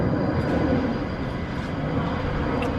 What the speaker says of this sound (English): Got some big aircraft going over